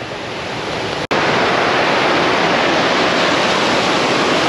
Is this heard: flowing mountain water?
yes